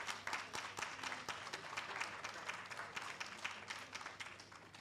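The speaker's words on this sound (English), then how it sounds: "give our finalists a rousing round of applause" Faint applause from a crowd at a senior citizens' spelling bee, steady rapid clapping heard from some distance, continuing without a break.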